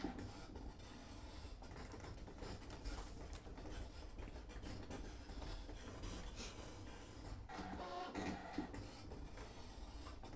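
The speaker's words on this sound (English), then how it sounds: "so you can see the machine is cutting" A craft cutting machine runs while cutting tags from a mat, giving a steady mechanical whir and ratcheting hum with small clicks throughout, with no voices.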